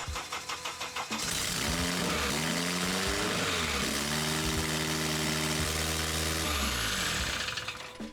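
A Toyota MR2 Spyder with a K24 engine cranks with a short pulsing starter burst, then catches and settles into a steady, loud, high idle close by.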